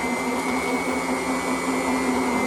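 Mini lathe on its slowest speed, about 365 RPM, turning a workpiece against a knurling tool, giving a steady, close whine with a constant tonal hum and no pauses or talk.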